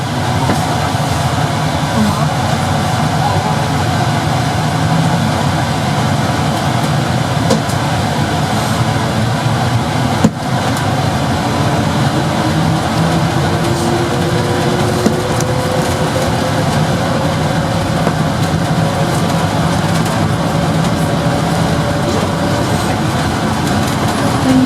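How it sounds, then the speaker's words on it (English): Steady rumbling of an airport transit train running on its track, a continuous mechanical drone with faint rattles and a gradual rising whine. "Here's the view out of the front of the transit train on the arrivals journey."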